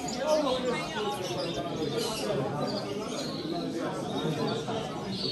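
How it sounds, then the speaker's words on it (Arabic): Goldfinches and canaries sing at a bird competition: a busy layer of overlapping chirps and trills over a steady crowd murmur with background chatter. "هنا شارك الحسون وشاركت حتى الطيور الأخرى، كنري الشكل، كنري اللون"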